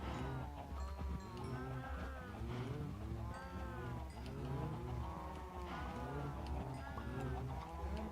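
Cows mooing in a farming video game, a continuous overlapping chorus of low moos with some sheep-like bleats mixed in, steady and fairly close with no talking.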